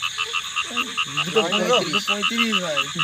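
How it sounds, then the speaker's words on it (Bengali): Frogs croak repeatedly all around at night, with close, overlapping calls over a steady, rapidly pulsing high-pitched background chorus. "চারিদিকে ব্যাং ডাকছে"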